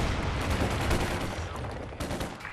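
Dense, continuous gunfire and rumbling explosions fill a battle in the video game Company of Heroes 2, loud and unbroken, with rapid overlapping shots throughout.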